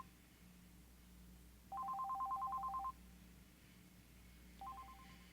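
A telephone chirps inside a virtual environment: one warbling electronic ring lasting about a second, then a fainter second ring starting, over a low steady hum.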